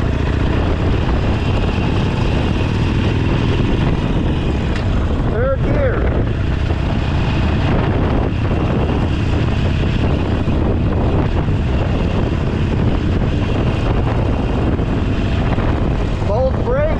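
A motorcycle pulling away under throttle and shifting into second gear, its engine note rising and dropping through the gear change, heavily buffeted by loud wind noise on the microphone.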